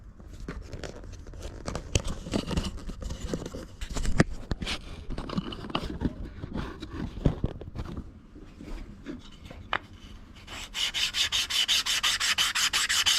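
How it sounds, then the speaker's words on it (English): Sandpaper rubbed by hand along the edges and face of an upcycled wooden desk tidy, a steady scratchy rasping with irregular strokes, some sharp knocks, and a brisker, denser run of rapid strokes toward the end. "just sand around all the edges like so, and then do the top as well, do the face of it as well."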